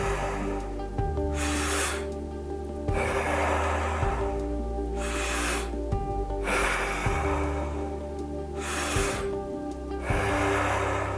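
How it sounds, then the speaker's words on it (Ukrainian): Slow, deep breathing exercise: long airy inhales into belly and chest followed by full exhales, roughly four cycles, close and steady over a low background hum, with no talking. "Повний вдих в живіт, груди і відпускає."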